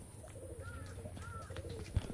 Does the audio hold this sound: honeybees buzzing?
no